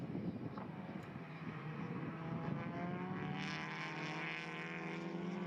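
TCR touring race cars, a Toyota and a Honda battling wheel to wheel on a South American circuit, make a sustained engine roar whose pitch climbs as they accelerate, heard from a moderate distance.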